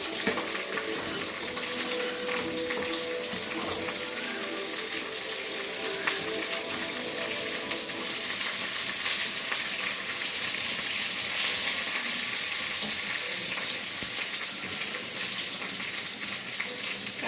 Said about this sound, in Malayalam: കടുകും മുളകും കരിവേപ്പിലയും പൊട്ടുമ്പോൾ